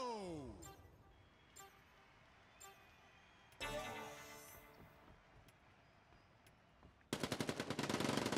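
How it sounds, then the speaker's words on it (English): Submachine gun fire in an online arena shooter match, with scattered shots early and a loud sustained rapid burst at the end, alongside game effects and commentary. "So we're seeing SMGs coming out"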